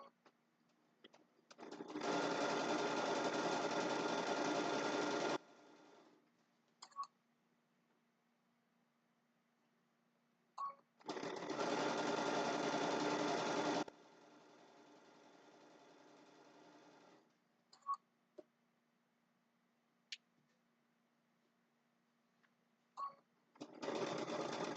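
A sewing machine stitches a quilt border in two bursts of steady, close whirring, each a few seconds long, separated by quiet handling noises and small clicks.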